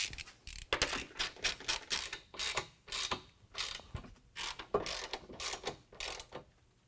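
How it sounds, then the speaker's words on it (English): Ratchet wrench tightening three flange nuts on an N-Fab RKR step system bracket on a 2019 Ram 1500, heard as a close run of rapid clicking bursts with brief pauses between strokes. "pushing up on the board and tightening down our 3 flange nuts"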